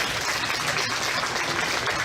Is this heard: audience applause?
yes